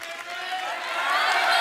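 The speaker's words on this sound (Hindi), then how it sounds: "जोरदार तालियां हो जाए।" A studio audience on a Hindi comedy talk show bursts into applause and cheering, a dense, steady wash of clapping that swells slightly toward the end.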